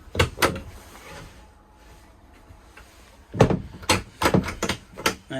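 Bathroom door of a Bailey Unicorn Black Faro 2021 caravan swung shut with a couple of close wooden knocks and latch clicks, followed by a short, busier run of bumps and thuds.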